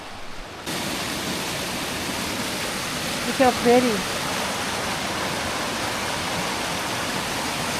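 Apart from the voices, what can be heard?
creek flowing along a hiking trail, North Cascades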